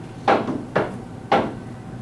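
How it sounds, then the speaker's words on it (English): An office door opens as someone comes in, giving three distinct knocking thuds spaced about half a second apart, close and fairly loud against a quiet room. "That sound of Cressida coming through the door."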